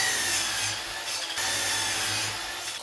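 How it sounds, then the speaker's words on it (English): Saw cutting the ends off a wooden bed rod, a steady close rasping stroke running continuously with slight surges, no talk. "I'm going to cut the ends off each end of this rod"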